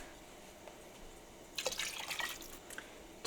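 Water from a tap splashes and trickles into a cooking pot for curry noodles made with leftover turkey, a quiet kitchen scene before a short burst of pouring and dripping.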